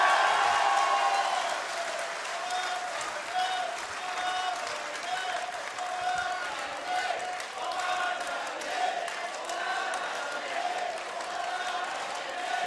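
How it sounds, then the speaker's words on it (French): A crowd of over a thousand at a political public meeting in La Glacerie claps loudly and steadily, with scattered cheers and shouts rising through the dense applause. "et vous pouvez vous applaudir"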